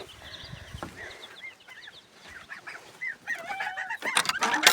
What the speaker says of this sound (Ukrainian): Гусі-гусі просяться пастися.